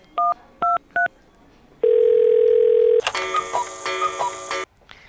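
A telephone call is placed: three short keypad tones beep in quick succession, then a loud steady single-pitch line tone holds for about a second, followed by a softer warbling ring pattern before it cuts off.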